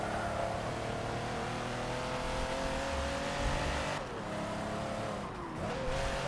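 A Mercedes-AMG race car in Forza Motorsport 7 roars steadily at high revs, its engine note dipping briefly around gear changes with a touch of tire squeal, loud and continuous throughout.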